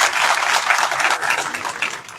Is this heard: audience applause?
yes